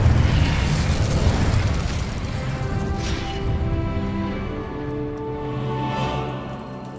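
Incendio fire spell cast in the game Hogwarts Legacy: a loud, dense roaring burst of flame that gradually tapers off, with a rumbling low end, crackling layers and a faint musical tone underneath.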